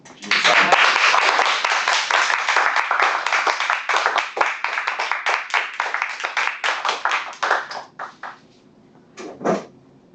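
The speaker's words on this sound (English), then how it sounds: "we did clapping" An audience at a Toastmasters meeting breaks into a dense burst of hand clapping that thins into scattered claps over several seconds and then stops, close and loud.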